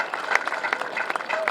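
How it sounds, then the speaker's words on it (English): Crowd clapping at an outdoor Veterans Day parade in San Jose, a scattered patter of hands with voices mixed in. "Yeah, go ahead, clap."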